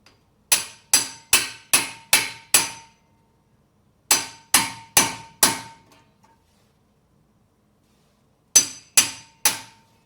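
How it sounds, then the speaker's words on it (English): An impact screwdriver is struck with a hammer to loosen front brake screws on a Hyundai Santa Fe. Three sharp, loud metallic blows ring out in close groups of five, four and three, with silence between. "We're going to use the impact screwdriver."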